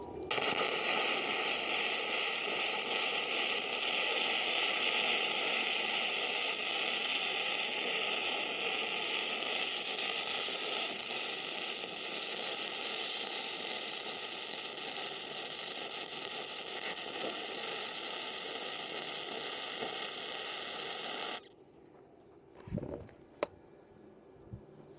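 An Arccaptain MIG 130 welder runs a flux core bead, giving a steady, close, crackling hiss that holds for about twenty seconds, then stops abruptly, leaving faint clicks and handling noises.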